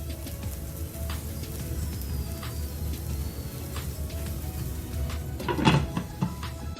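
A lid is set down over a pan of cooking potatoes for potato idiyappam, a short clattering knock near the end over a low, steady background hum.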